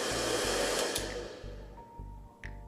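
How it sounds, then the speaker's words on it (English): A hairdryer powered through thin wires that overheat and melt, its broadband motor-and-fan roar loud and close at first, then thinning out with low rhythmic pulsing and a few brief crackling bursts as it falters. "If I try to power a hairdryer using these thin wires"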